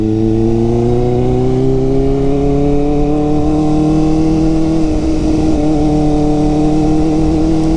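Kawasaki Ninja ZX4RR motorcycle speeding along an island road, its engine a loud, close, continuous drone whose pitch climbs gently and then wavers slightly, with no voices over it.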